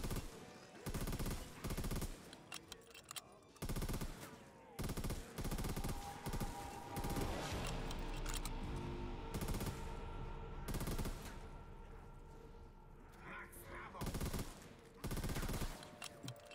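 Repeated bursts of gunshots in Black Ops 3 Custom Zombies, blocks of loud firing separated by short quiet gaps, with game sounds and music running underneath.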